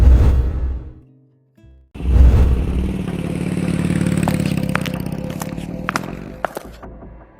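A motorcycle engine starts up and rides off in an animated scene, a loud revving drone holding then easing away, mixed with clatter and sharp knocks.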